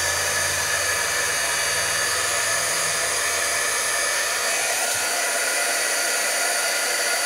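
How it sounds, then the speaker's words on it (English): A heat gun melts embossing powder on a paper craft card, blowing a constant loud hiss-like rush of hot air with no talking. "Hit the heat gun real quick."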